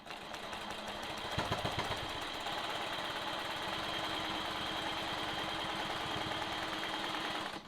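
A sewing machine runs continuously during free-motion quilting with a long ruler, its rapid needle chatter steady and mechanical, briefly pausing and restarting near the start, close and moderately loud with no talking.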